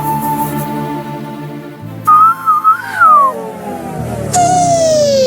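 A man whistles a tune in a Tamil serial scene, clear melodic whistling with rising and falling notes over a steady soft musical background, close and fairly loud.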